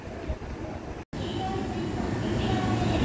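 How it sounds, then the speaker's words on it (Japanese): A train pulls away from platform 2 at a Japanese railway station, giving a steady low rumble with a brief dropout early on, while faint voices murmur in the background. "2番線から電車が発車します。"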